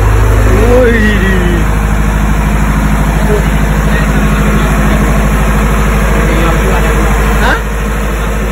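A phinisi boat's engine runs in its engine room with a loud, steady idling rumble and a constant vibrating drone, while people talk nearby over it.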